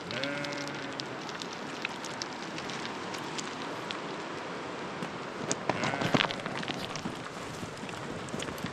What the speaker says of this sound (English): There's a very cute flock of sheep